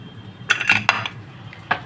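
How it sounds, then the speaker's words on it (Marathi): A pressure cooker holding boiled potatoes is lifted off the stove, giving a few sharp metallic clanks and clinks in quick succession, close and fairly loud, with no talking. "कुकरची हवा नेहमी काढून घ्यायची आणि मग हे कुकर असा उतरवायचा."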